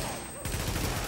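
Gunfire in The Division video game strikes an enemy, a burst of dense shots that starts abruptly partway in and continues steadily to the end, loud and close.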